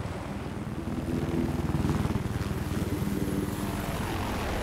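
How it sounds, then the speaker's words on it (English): Several helicopters in a 10 vs 10 video game match on the Siege of Shanghai map drone with a steady rotor chop that swells and stays loud throughout, with no talk. "What are all these helicopters?"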